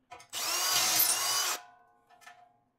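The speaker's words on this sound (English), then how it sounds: "Need to ream that one out just a hair." A power drill reams out a fitting for a pressurized tank, a single loud whirring burst of just over a second that winds down, followed by faint handling noises.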